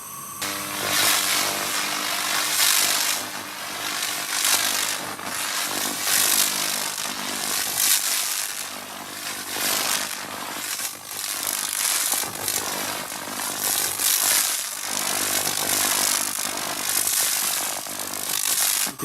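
An SFX 2000/3000W laser cleaning machine strips decades-old rust and epoxy primer from metal with a loud, continuous high-pitched buzzing hiss that pulses slightly as the beam sweeps, with no talking.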